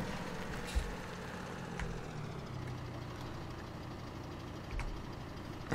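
A small tractor engine in Farming Simulator 17 runs at a steady, low idle-like drone, faint and continuous, with a few soft thumps along the way.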